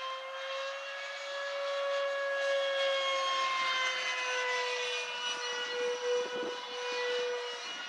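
A Freewing Messerschmitt Me 262 RC model jet flies overhead with a high, whining turbine-like tone that drifts slowly in pitch, fairly loud and steady across the pass, with no one speaking.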